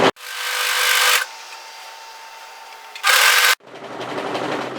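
An overlocker stitching the side seam of a longline hoodie, loud whirring bursts at the start and again near the end, with quieter fabric handling between.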